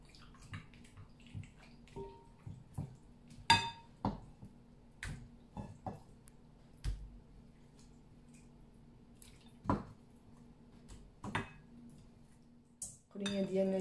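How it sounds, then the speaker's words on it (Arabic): Rabbit meat being mixed with marinade in a dish for a rabbit tagine with onions and raisins, heard as scattered clinks, taps and wet handling sounds, fairly quiet, with a few sharper knocks and no talk. "ونشرملوها."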